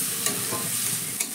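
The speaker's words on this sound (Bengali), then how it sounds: "এবার সব মশলা খুব সুন্দর করেই ভাজা হয়ে গেছে" Spices mixed with tomato sauce fry on a low flame in a pan, a soft, close sizzle with a couple of light scraping stirs.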